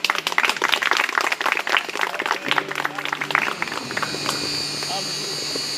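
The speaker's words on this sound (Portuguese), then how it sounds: "Vamos dar uma salva de palmas para Jesus." A church congregation at a baptism service claps loudly and unevenly for a few seconds, the applause thinning out and giving way to a steady low hum.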